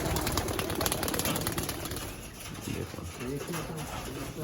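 Madras pigeons released in a pigeon loft, with cooing and fluttering wings close by, a steady busy mix running throughout under a man's speech.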